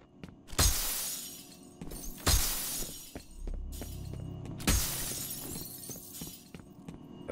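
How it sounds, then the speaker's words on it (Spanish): Glass shatters three times in F.E.A.R., each a sharp loud crash followed by tinkling shards over several seconds, with faint game ambience and no talking. "Rompiendo cristales."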